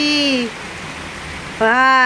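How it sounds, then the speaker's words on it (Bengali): Heavy rain pours down outside a home, a steady broadband hiss that carries on between short stretches of a nearby voice. "তবে আমাদের এখানে খুব বৃষ্টি হচ্ছে"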